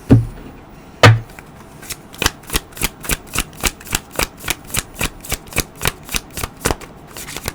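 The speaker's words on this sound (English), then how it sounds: "I think I'm going to pull a couple of cards" A deck of oracle cards being shuffled by hand, two sharp riffles followed by a steady run of crisp, evenly spaced card slaps, close and clear with no talking.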